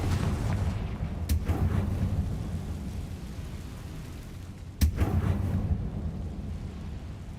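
The Confringo blasting spell in a Harry Potter video game goes off as a sharp crack, followed by a deep rumbling blast, then a second crack and boom a few seconds later, over a continuous low roar.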